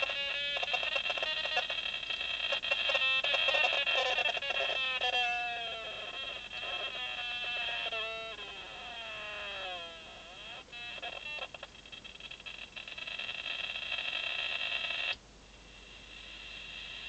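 An electronic multivibrator circuit tone, modulated by a roughly 17 kHz sine wave, warbles and sweeps in pitch, chirping and gliding, then settles into a steadier buzzing tone that drops quieter near the end.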